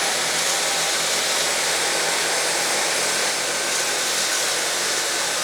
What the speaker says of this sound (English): we're going to do a carpet test here between the PencilVac and the Dyson V8